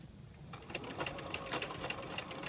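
A sewing machine back stitches along the lip of a lapped zipper, a quiet, close, rapid rhythmic clatter starting after a brief pause and continuing steadily.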